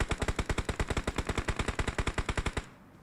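Rapid automatic gunfire from PUBG Mobile, a steady burst of about two dozen loud, evenly spaced shots lasting over two seconds, then cutting off into quiet.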